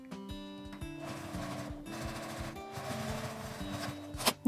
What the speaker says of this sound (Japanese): 開いて表側に端ミシンをかけます。